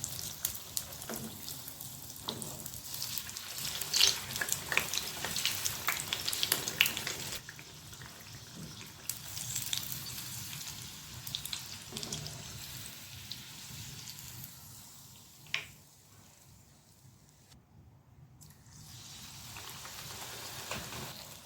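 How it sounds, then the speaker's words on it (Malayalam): Chilli bajji fry in hot oil with a steady, crackling sizzle like light rain. The sizzle is loudest early on, then fades to a softer bubbling with occasional clinks. "നമുക്ക് ഓരോന്നും ഫ്രൈ ചെയ്തെടുക്കാം"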